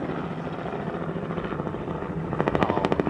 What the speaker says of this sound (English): The planes have just got very loud.